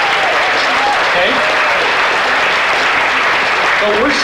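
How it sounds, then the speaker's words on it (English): Dense, steady applause fills the space as an audience at a disclosure festival meditation event claps together, loud and continuous with no break. "Give yourselves a round of applause."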